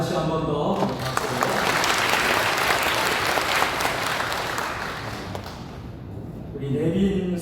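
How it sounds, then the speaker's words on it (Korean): Sustained applause from a crowd gathered at a Liberation Day joint church service in Sejong, honoring a National Assembly member; dense clapping fills most of the stretch, fading near the end as a voice starts speaking. "강준현 국회의원께 다시 한 번 더 박수"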